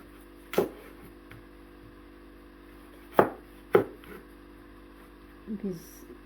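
A kitchen knife thinly slicing cucumber and carrots on a cutting board, heard as a few separate crisp cuts spaced seconds apart, near and fairly quiet, with a low background hum.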